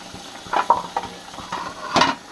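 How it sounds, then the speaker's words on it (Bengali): A piece of fish frying in a pan at home, with spatula scrapes and clinks over a low, steady sizzle; several separate scraping strokes stand out, close by, with a louder clatter near the end. "মাছটা ভাজি করছি, যেহেতু পেঁয়াজ দেবো।"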